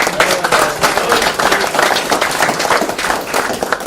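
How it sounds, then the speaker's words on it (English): Applause from the audience at a senior presentation by a municipal drug alliance, a smaller crowd with individual claps audible in an uneven rhythm, close and lively for about four seconds. "She deserves a big round of applause."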